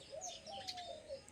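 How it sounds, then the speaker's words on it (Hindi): Small birds chirp and twitter in a quiet village, light and fairly faint, with a cooing bird mixed in and no voices over them. "चिड़िया बोलने की आवाज़ आ रही है आप लोग को"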